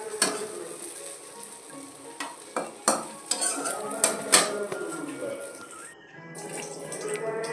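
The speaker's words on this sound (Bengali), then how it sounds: "এবারে বেগুনগুলো তুলে নেব।" Fried eggplant pieces being lifted from a sizzling pan, a steady fry hiss with several sharp scrapes and clinks of a utensil against the pan, close and moderately loud.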